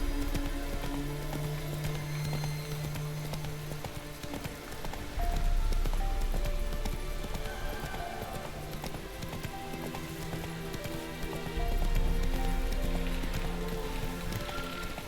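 Roach the horse gallops in The Witcher 3, hooves clip-clopping in a fast, steady rhythm over a rain-like patter and sustained game music, with a couple of heavier thumping surges.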